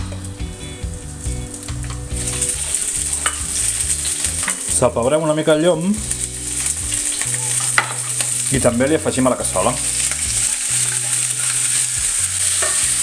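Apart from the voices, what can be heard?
sausages frying in a casserole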